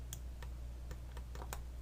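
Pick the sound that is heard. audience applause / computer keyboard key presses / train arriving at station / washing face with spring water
computer keyboard key presses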